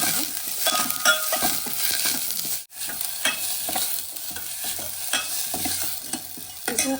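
Vegetables for chicken soup frying in a pan, a steady close sizzle with frequent scraping and stirring clatter throughout, one brief dropout partway, no voices.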